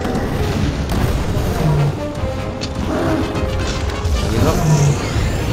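Bomb and firecracker blasts from the Monster Hunter World video game burst out in thuds and crashes within dense, continuous game noise, with a couple of brief tonal accents.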